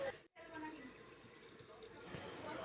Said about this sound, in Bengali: এবার একটু গরম জল দিয়ে দিলাম